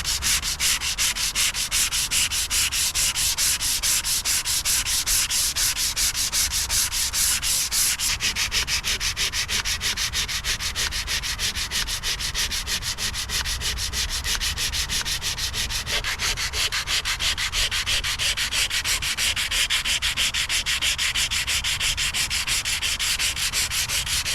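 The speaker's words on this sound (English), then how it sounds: "this is just the initial sanding." Continuous rhythmic rubbing of sandpaper on gel coat of a boat cabin, fast back-and-forth strokes, close and fairly loud, with no voices.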